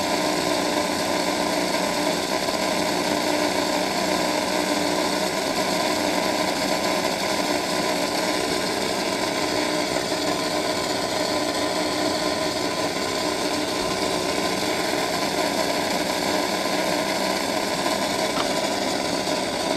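An Aurora AFX Super Magnatraction slot car motor spins on a dyno with a steady, continuous high-pitched whine that holds one even level throughout, with no talking.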